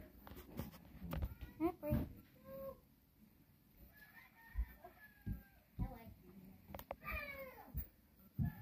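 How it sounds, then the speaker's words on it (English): Cats meowing and hissing in a tense, fighting encounter, heard as scattered short cries and yowls mixed with clucking, crowing fowl and bursts of talk. "So there's some hissing and fighting and meowing."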